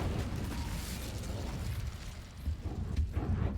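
Hogwarts Legacy's Incendio fire spell sets off a rumbling, roaring whoosh of flame with low booming bursts, loud and sustained throughout.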